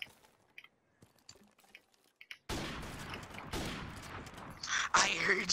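Video game gunfire during a one-on-one match, sparse faint clicks and shots at first, then a sustained loud burst of rapid fire and crackling impacts that continues to the end.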